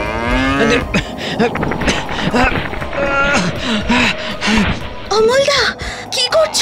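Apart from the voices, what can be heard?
calf mooing for its mother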